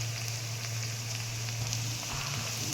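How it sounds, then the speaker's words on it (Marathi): Onion greens and coriander frying in hot oil, a steady close hiss and crackle of sizzling that carries on evenly throughout with no voices. "आणि आता याच तेलात कांद्याची पात आणि कोथिंबीर मस्तपैकी तळून घेऊ"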